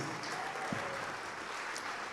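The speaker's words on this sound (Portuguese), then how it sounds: "Vamos aplaudir mais, igreja." Church congregation applauding during a sermon, a steady wash of clapping from many hands that holds evenly throughout, with no speech over it.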